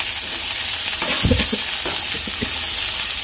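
Onions and capsicum stir-frying in a pan for chicken cocktail chilli fry: loud, constant sizzling with a cluster of spatula scrapes and clacks in the middle.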